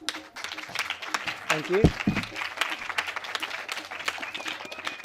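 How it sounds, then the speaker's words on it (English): Audience clapping at a community talk, a dense, steady round of applause close and lively, with a voice briefly speaking through it. "And I'm clapping for my community here"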